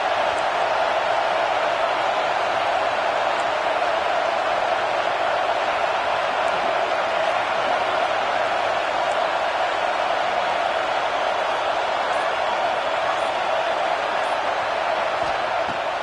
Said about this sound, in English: The Tide crowd rolling noise down on the Saban field on third down